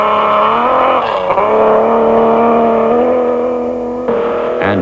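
A Nissan Skyline rally car's engine drones loud and close throughout, its pitch dipping and sweeping as it shifts and revs at a 1987 international rally stage, with a brief change in tone near the end.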